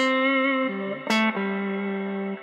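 A plate reverb impulse response from an old 1990s Quadriverb hardware unit, with a grainy lo-fi quality, smears a sustained synth tone into a lingering tail, its pitch stepping down and back up, a brief bright burst in the middle.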